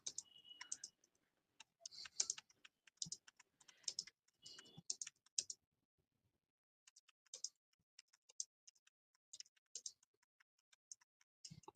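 Keys clatter on a computer keyboard as a question is typed into ChatGPT, in quick clustered bursts separated by short pauses and a longer gap, close and fairly quiet in an otherwise silent room.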